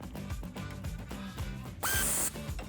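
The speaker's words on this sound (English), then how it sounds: "Using our 18mm wrench and 18mm socket, we're going to tighten the bolt and nut on the top of our end link." An 18mm wrench and socket tighten the end link bolt and nut on a Jeep Wrangler JL during a lift kit install, with a quick rhythmic ratcheting clatter up close and a brief hissing burst midway.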